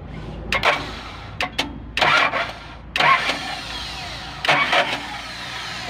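A car's starter cranks in several short bursts, its slipping Bendix drive failing to hold and letting go before the engine catches, with uneven grinding whirs separated by gaps of quieter idle-like rumble.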